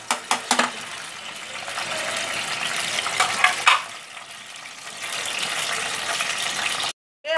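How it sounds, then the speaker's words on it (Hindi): Onions frying in refined oil in a pan, giving a steady broadband hiss and sizzle that holds throughout, with a few crackles near the start and a brief cut to silence near the end. "अभी प्याज फ्राई हो जाएगी,"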